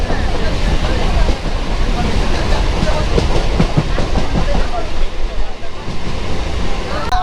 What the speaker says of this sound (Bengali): বেলডাঙ্গা থেকে কিন্তু ট্রেনটি ছেড়ে দিল